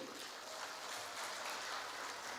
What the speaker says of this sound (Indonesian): Kita berikan aplaus kepada Ibu Sherly